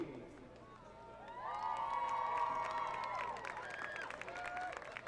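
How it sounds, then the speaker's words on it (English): Crowd at a girls' soccer team event cheers and shouts with scattered clapping. Children's voices rise in pitch above a murmuring crowd, moderately distant, swelling midway and staying lively. "please give them a big round of applause"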